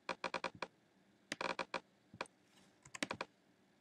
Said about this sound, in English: I'm using the arrow keys at the moment.